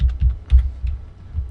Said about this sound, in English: I'm going to type in NS lookup, hit enter